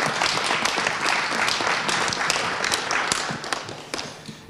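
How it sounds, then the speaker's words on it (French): A conference audience applauds at a 2021 colloquium on education and evaluation: dense, steady clapping from many hands that fills the room and fades slightly toward the end. "Applaudissements mérités."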